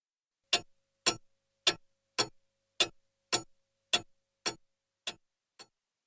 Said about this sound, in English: Tick.